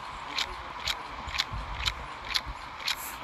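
Regular footsteps in the video game Arena Breakout, about two per second, each a crisp tapping thud, moderately close and evenly paced with faint background noise.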